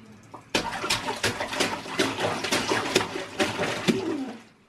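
Running water a young girl is playing in, splashing in irregular bursts with bird-like squeals and vocal noises over it, close and fairly loud.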